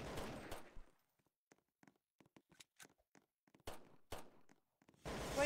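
Scattered gunshots in Roblox, a few sharp loud bangs mixed with quieter distant pops, irregularly spaced with brief silences between.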